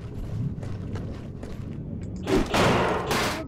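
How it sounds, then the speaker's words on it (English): Gunfire in the video game Duke Nukem Forever comes as a burst of loud, rapid shots near the end, preceded by softer thumps and game ambience, with no talk over it. "You heard a gunshot?"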